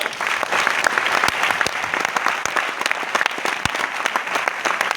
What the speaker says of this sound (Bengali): এখন তোমাদের জন্য হাততালি হোক পাঠিয়ে